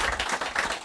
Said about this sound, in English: So we'll give him a round of applause